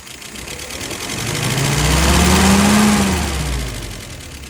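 A car engine idles close by while its revs rise slightly and then settle back down, giving a steady mid-pitched hum that swells and fades over a few seconds with no talking.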